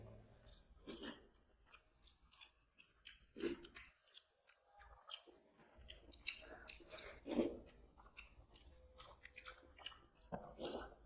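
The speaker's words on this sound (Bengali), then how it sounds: "একটু ঝোল খাই সোয়াবিনটা আমি সব একসঙ্গে মেখে খাবো" Mouth-close chewing of rice mixed by hand with soybean chunks, sour fish gravy and dal, with soft wet squishes and bites repeating in an uneven rhythm, with no talk.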